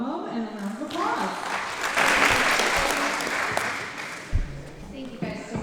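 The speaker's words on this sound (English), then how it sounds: "Please give her a warm welcome and a round of applause." Audience applause fills a Republican Lincoln Reagan Trump dinner in Alcona County as a Secretary of State candidate is welcomed, loud sustained clapping with some crowd voices that thins toward the end.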